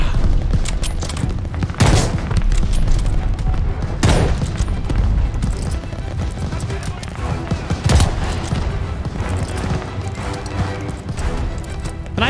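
Call of Duty Vanguard campaign gunfire: dense, continuous rattling volleys punctuated by sharp, heavy cracks and impacts, loud and close throughout.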